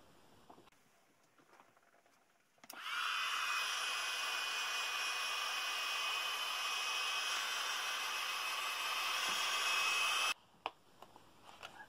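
A heat tool or dryer blows over a mixed media card, switching on abruptly into a steady, loud whooshing roar with a high tonal whine, running for about eight seconds before cutting off, surrounded by quiet room noise.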